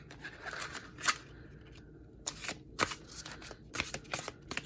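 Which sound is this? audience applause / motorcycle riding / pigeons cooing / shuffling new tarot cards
shuffling new tarot cards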